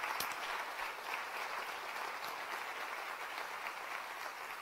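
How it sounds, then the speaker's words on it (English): A symposium audience applauds in a hall, a steady dense wash of many hands clapping at moderate distance, even and sustained throughout with no voices over it. "Please stand and give them a warm round of applause."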